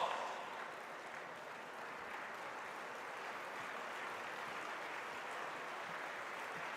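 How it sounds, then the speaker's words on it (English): An audience at a national felicitation ceremony applauds in a standing ovation, a dense and steady wash of clapping that holds evenly throughout. "And let's give him a standing ovation, a big round of applause"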